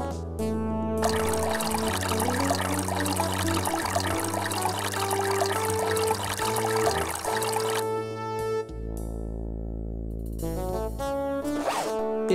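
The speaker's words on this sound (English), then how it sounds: "You never could resist the sound of running water." Water runs from a fountain in Leisure Suit Larry 6, a steady trickling, pouring stream mixed with synthesized game music, continuous and fairly loud throughout, with the tone shifting near the end.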